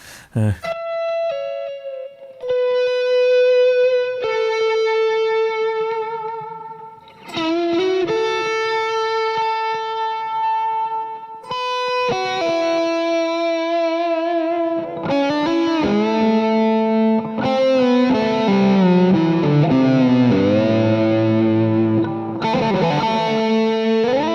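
A Fender Stratocaster electric guitar plays classic distorted tones, sustained notes and chords ringing out loud and continuous with effects coloring the sound, no talking over it.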